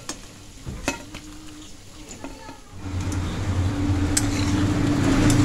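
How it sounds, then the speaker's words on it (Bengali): Pointed gourd chops fry in hot oil, with a sizzle that swells to a steady, fairly loud crackle partway through, preceded by a few utensil taps and scrapes as pieces are turned. "এইভাবে উল্টে পাল্টে পটলের চপগুলো আমি ভেজে নিয়েছি"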